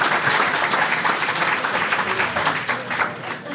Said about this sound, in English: Nice round of applause.